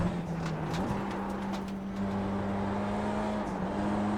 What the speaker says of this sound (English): Here you can hear I let off the throttle very early